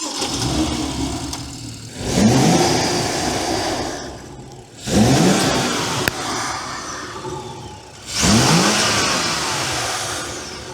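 Stock-filter intake roar from a BMW M2 engine, revved three times in a row: each blip climbs quickly to a loud rising howl, then eases back toward idle between revs, close up and with no talk.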